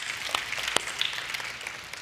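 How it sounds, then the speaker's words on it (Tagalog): Church congregation applauding, a quiet, dense patter of many hands clapping with a few sharper claps standing out, heard from a distance. "Pwede ba isa pang malakas na palakpak sa Panginoon?"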